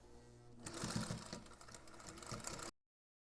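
A sewing machine with a topstitch needle stitches a road trip bag, a fast steady whirring hum lasting about two seconds, close and clear, then it stops abruptly.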